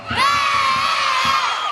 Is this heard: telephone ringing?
no